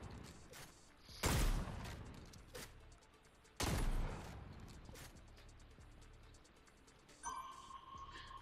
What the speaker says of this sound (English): I hear your shots and it sounded like your bullets were very close to me.